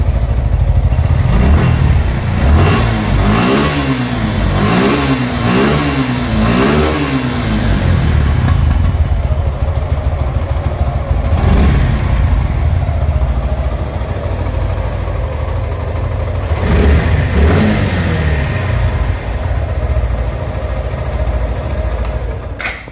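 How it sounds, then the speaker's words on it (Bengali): A used Suzuki Gixxer Fi ABS motorcycle starts up and settles into a loud close idle, with several quick rising revs early and a couple of later throttle blips. "তো আমরা যদি বাইকটা স্টার্ট দেই"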